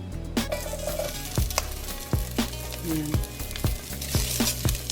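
Ginger sizzling steadily as it is sautéed in a hot pan, a close bright crackle with repeated clinks of a utensil stirring, and someone speaking briefly over it.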